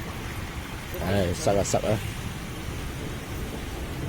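Heavy typhoon rain drums steadily on a car from inside, a dense wash of noise throughout, with a short burst of talk from someone in the car partway through.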